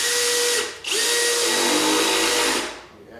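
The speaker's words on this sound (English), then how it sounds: "What that does is it allows us to easily sink these buddies in with this drill" A cordless drill with its torque clutch set low drives screws into a board for an arcade cabinet build, giving two loud, close, whining bursts with a short pause between them and the motor pitch shifting under load.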